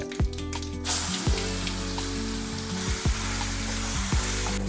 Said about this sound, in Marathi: हे चांगलं असं परतून घ्यायचं.